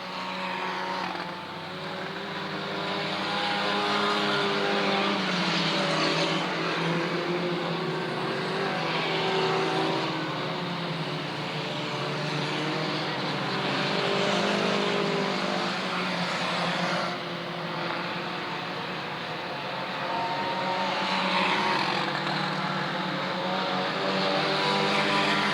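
Stock cars racing around Southern Oregon Speedway, engines roaring loud and continuous for the whole stretch, swelling and fading as the pack circles past with no talk.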